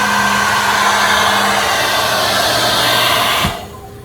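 A steady, loud broadband whoosh of a hair dryer blowing air runs continuously, drawing around 11 amps, then cuts off abruptly near the end, leaving a low hum.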